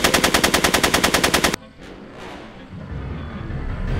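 Machine gun fire in the Back to the Future video game: a loud rapid burst of about a dozen evenly spaced shots that cuts off abruptly, followed by quieter ambient noise.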